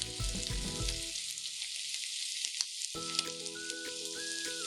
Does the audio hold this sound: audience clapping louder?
no